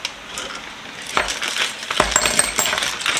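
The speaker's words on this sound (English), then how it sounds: "throw all this into this little Ziploc bag" Small metal ratchet and socket parts drop into a Ziploc bag, giving a scatter of bright clinks and chinks in a few quick clusters, close and fairly loud, with no talk.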